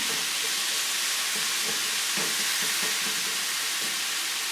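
Greasy meat hot sauce for a gluten-free Rochester garbage plate cooks in a pan, making a loud, continuous close-up sizzle with a few brief bubbling bursts and no talking.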